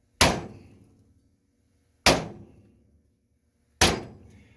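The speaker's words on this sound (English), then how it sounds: "I'm gonna try a smaller sledgehammer." Three loud, evenly spaced metallic blows ring out as a small sledgehammer strikes a leaf spring rivet under a 2001 Ford F250 Super Duty, each hit decaying into a short ringing tail.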